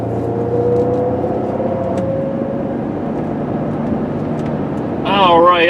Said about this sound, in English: 2007 Chrysler Pacifica all-wheel drive out on a quick test ride up and down the road here.